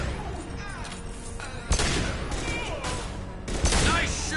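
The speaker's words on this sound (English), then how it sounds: "Firing a high-impact shot." A high-impact gunshot in a PS4 game: two heavy, booming shots ring out loud and close amid ongoing battle noise and voices.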